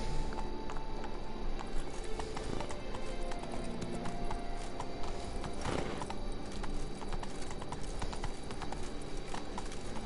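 Roach, Geralt's horse in The Witcher 3: Wild Hunt, clip-clops steadily along with rhythmic hoofbeats over continuous in-game ambience and a brief whinny-like accent near the middle.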